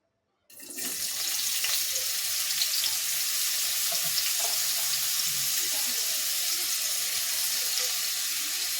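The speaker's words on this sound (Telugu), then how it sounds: "స్టవ్ మీద కడాయి పెట్టుకొని నాలుగు స్పూన్లు ఆయిల్ వేసుకుని అర కేజీ కాకరకాయలు కట్ చేసి పెట్టాను ఇప్పుడు అవి అందులో వేసేసుకుందాం" Half a kilo of cut bitter gourd pieces drop into hot oil in a kadai on a stove, bursting into a loud, sustained sizzle after a brief silence and holding steady throughout.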